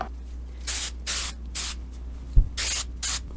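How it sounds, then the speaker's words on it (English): Hairspray from an aerosol can misted over loosened beachy curls in a series of short hissing bursts, about six spaced sprays close up, with a brief thump between them and no talking. "And then I go in with a little more hairspray."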